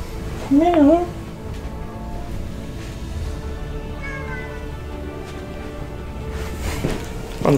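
A cat gives one loud, wavering meow near the start, then quieter background noise with faint sounds follows, and another brief meow begins at the end.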